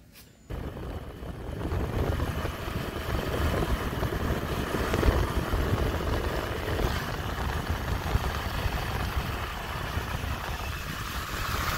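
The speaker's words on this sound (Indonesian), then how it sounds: "Naik motor yuk." A motorcycle carries riders along a road, its engine drone and wind rumble steady and loud throughout after a brief quiet moment at the start.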